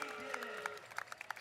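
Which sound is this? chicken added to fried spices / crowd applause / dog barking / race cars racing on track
crowd applause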